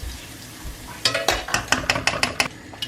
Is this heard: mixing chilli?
yes